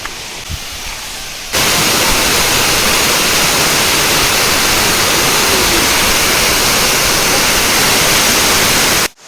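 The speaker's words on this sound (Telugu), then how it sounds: "ఇక్కడ చాలా మంచి వాటర్ ఫాల్ ఉందన్నమాట" A waterfall high up in the hills roars in a dense, steady rush of falling water after a quiet opening second, loud and close with no voices.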